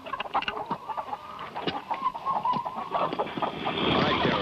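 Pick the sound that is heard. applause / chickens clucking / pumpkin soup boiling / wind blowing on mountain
chickens clucking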